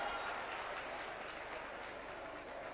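Applause from an audience at a Chief Minister's speech to anganwadi workers, a steady even patter of clapping sustained throughout without breaks.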